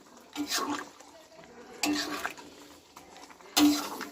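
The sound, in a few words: stirring curry in a cooking pot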